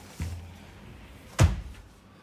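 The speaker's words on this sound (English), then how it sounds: "Sliding doors as well." Sliding cupboard doors in a hotel room give two distinct knocks, a light bump and then a louder thud as a door meets its stop, with quiet room tone between.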